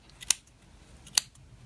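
Two crisp snips of small scissors cutting yarn while making a pom pom, about a second apart, close and quiet, with nothing else around them.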